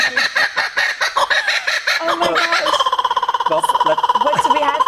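A laughing kookaburra gives its territorial call, a loud, near, rollicking series of rapid cackling notes that builds into a sustained rhythmic chatter, with no talk over it.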